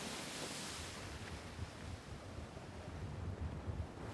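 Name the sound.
ocean waves on a beach near Reykjavik, Iceland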